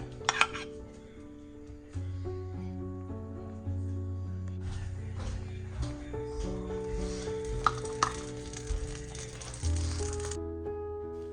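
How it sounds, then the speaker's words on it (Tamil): Pancake batter poured onto a hot buttered griddle, giving a soft, steady sizzle with occasional light utensil clinks beneath a tonal background. "இப்போ இந்த பேன் கேக் மாவை இப்போ அதில் விட போகிறேன்"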